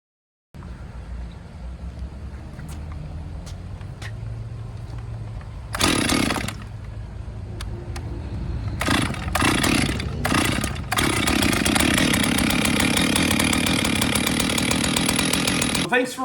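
A Stihl 044 slant-fin chainsaw with a newly installed carburetor, piston and cylinder starts with a few sharp pulls and bursts, then settles into a loud, close, steady engine run that climbs and holds at high revs.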